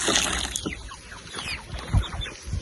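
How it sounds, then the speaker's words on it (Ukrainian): Chicks and chickens in a village yard give scattered soft clucks and cheeps as they run toward water, close and fairly quiet over faint background rustle. "Всі біжать оці курчата нічого не бояться."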